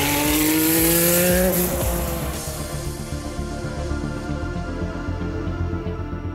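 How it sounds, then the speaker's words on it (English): A 1985 Porsche 962 Rothmans race car accelerates hard with a loud, close engine whose pitch climbs over the first seconds and then settles into a steady, rough drone. "she does sit up and take notice when you get on that power and the turbo starts spooling up"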